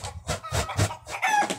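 Chickens cluck in short, close, repeated bursts, with a brief higher crowing note near the end, loud and without voices.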